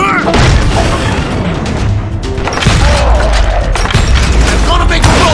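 Gunfire from the Western video game Call of Juarez: Gunslinger: heavy booming shots and bursts crash repeatedly over a rumbling game soundtrack, loud and dense throughout, with a voice narrating on top.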